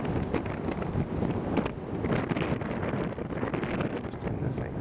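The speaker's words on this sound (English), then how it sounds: "As you can tell, it's still very windy." Strong wind buffets the microphone in continuous rough gusts at a sailboat anchorage, a loud blustery roar with faint water and boat sounds underneath.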